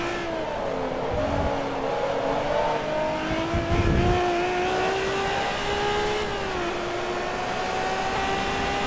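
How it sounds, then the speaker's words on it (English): A Ferrari engine in the racing game Forza Motorsport 2 revs up and holds a strong, steady drone, its pitch climbing and easing as the car accelerates and shifts. "This is the Vape Nation Ferrari."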